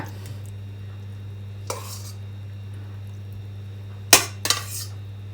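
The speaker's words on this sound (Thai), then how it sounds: "เราจะผัดหมูกับน้ำมันก่อนจ้ะ" Pork with coriander root dropped into oil in a pan that is still heating up, a brief clatter of utensil on pan and two sharp clinks near the end over a steady low hum, with no talking.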